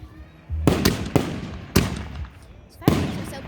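Fireworks go off at a 4th of July celebration, four sharp explosive bangs with crackling decay spaced through the moment, loud and close, with faint voices in the background.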